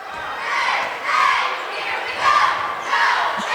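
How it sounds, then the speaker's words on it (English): Crowd cheering and shouting fills a high school gym during a WPIAL boys basketball game, Albert Gallatin at Laurel Highlands, a steady roar swelling in waves with a few faint ball bounces beneath. "Nice crowd here tonight, TJ."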